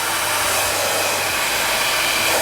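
Steady loud rush of a blow dryer running on the coolest setting at top fan speed, a constant airy whoosh with no pauses and no voices over it.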